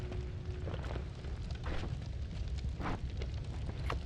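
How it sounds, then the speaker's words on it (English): A bomb goes off in the pixel-physics game Noita, a muffled low rumbling burst with crackling debris and fire hiss, steady and fairly quiet with no talk over it. "We're going to use a bomb here because we're kind of in a hurry"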